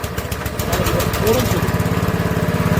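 Honda GX160 small engine running after a pull start, a steady close, loud chugging putter with a regular pulsing beat, while someone speaks briefly over it.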